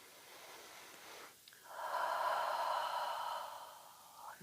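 Deep breathing during a yoga session, a slow audible inhale rising into a long steady breath, soft and close with faint background hiss.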